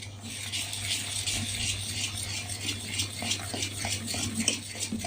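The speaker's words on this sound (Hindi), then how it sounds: "हम इसे अच्छे से मिक्स कर देते हैं।" Fermented dosa batter stirred by hand in a bowl, soft repeated wet squelching and slapping strokes in a steady rhythm with a low background hum, with no speech.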